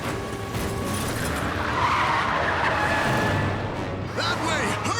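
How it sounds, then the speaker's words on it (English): A runaway fire truck careening out of control through city streets in an anime, tires skidding and squealing loudly over a continuous roaring engine, with a voice briefly heard near the end. "A fire truck is driving wildly through the streets, completely out of control and smashing into anything and anyone in its path."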